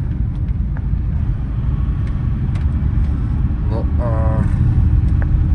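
A VW T4 with the 2.5 five-cylinder engine rumbles steadily from inside the cab while driving, the engine note rising slightly as it revs, with someone speaking briefly over it.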